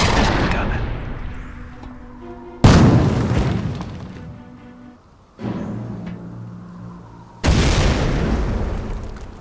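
Mortar shells explode in Company of Heroes at Carentan, four heavy booms spaced a couple of seconds apart, each hitting loud and close, then rumbling down in a long fading tail.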